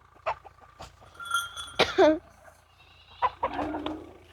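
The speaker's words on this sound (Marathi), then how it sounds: "ते खूप सारे कोंबडे आहेत" Chickens clucking and squawking nearby in scattered bursts at a village house, one loud call in the middle, with quieter stretches between.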